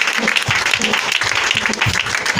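A church congregation applauds in acclaim of God with dense, continuous clapping from many hands, loud and close throughout.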